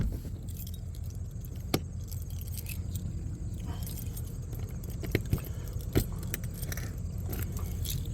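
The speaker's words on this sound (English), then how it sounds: "Take a key, lock it." Keys jangling and clicking in a lock on an RV storage compartment, a few sharp metallic taps and scrapes over a steady low engine rumble nearby.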